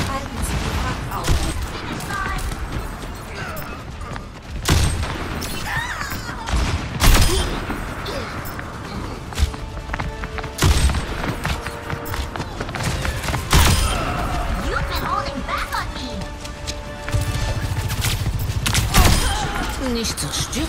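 Repeated volleys of gunfire from the Overwatch 2 video game, sharp shots and thuds scattered throughout, mixed with speech and game sound effects.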